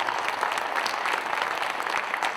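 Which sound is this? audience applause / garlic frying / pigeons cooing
audience applause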